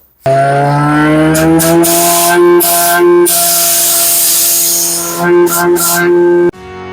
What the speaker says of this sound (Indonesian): kita nyoba tes nih, dihidupin yang namanya AMR 1500 ini nih